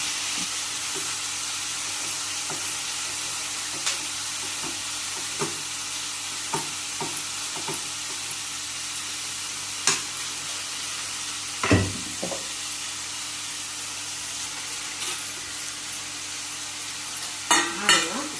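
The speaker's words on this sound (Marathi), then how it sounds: "म्हणजे तापला जातोय कोबी." Chopped cabbage fries in a hot kadhai, sizzling steadily up close while a utensil scrapes and stirs it in scattered clinks and knocks, with a few louder scrapes near the end.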